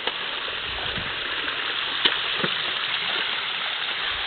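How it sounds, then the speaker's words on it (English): Shallow creek water behind a house rushes and burbles steadily up close while someone wades through it, with soft splashes and one sharp knock partway through. "Walking in the creek that runs up behind my house."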